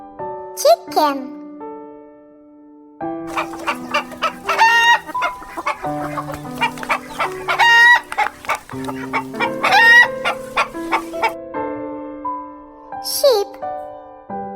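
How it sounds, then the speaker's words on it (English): Chickens cluck in rapid, busy bursts while a rooster crows clearly near the start and end, all close and loud over soft music, with someone speaking in places. "Chicken."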